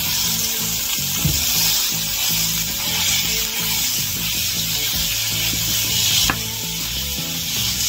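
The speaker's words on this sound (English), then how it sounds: "Let's get our hamburger browned." Ground hamburger meat browns in a pan with a steady sizzle, and scraping and stirring knocks break it into small pieces throughout, close up with no talking.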